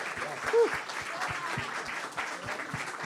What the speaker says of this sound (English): another round of applause for this incredible cast